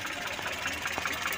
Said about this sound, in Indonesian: Yang penting diperhatikan untuk setel Delco, mesin dalam kondisi hidup teman-teman.